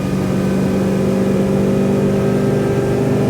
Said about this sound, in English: Let's just go wide open throttle.